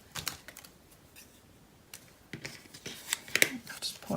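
Scissors cut paper in a few quick, crisp snips and rustles. The cuts come in a sparse cluster, with louder snips toward the end against a quiet background.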